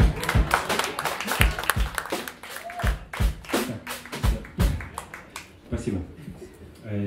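A concert audience applauds after a jazz trio's piece, uneven clapping with sharp taps and thuds that comes and goes over several seconds while someone speaks over it.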